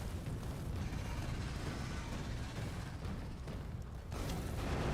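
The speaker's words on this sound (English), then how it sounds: "I took a massive hit from my own cannon there." Heavy cannon blasts from the video game Factorio roar through a dense, continuous barrage of booms and rumbling explosions, loud and sustained throughout with no pauses.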